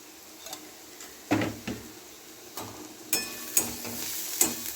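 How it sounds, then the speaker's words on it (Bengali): Turmeric and chili powder frying for masala dosa filling, with soft sizzling and several sharp spoon scrapes and taps against the pan, no talking. "মশলাটাকে একটু ভেজে নেবো ভালো করে"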